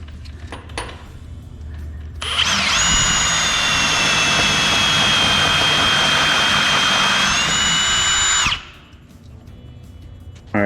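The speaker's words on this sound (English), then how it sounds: "keep the drill perfectly straight with even pressure until you hit the stop, and then remove it while it's still spinning" A power drill spins up and bores steadily into a pipe for about six seconds with a high, sustained whine, then winds down and stops, during ductless heat pump installation.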